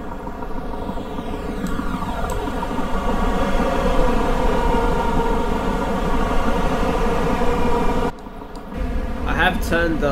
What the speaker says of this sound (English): I have turned the game volume slightly up, so you should be able to hear the trains much more louder